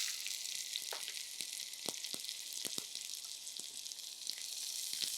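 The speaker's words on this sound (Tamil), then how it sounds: "சீரகம் நல்லா பொரியணும், அப்போ தான் நல்லாயிருக்கும்" Cumin seeds fry in hot oil for a Tamil brinjal gravy, giving a steady, close crackling sizzle with scattered sharp pops and spits throughout, and no voices over it.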